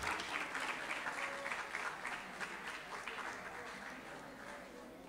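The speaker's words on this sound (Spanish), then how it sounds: "Un aplauso para ellos." An audience applauds a student team at a school project presentation, with steady, dense clapping from a sizable crowd that fades slightly toward the end.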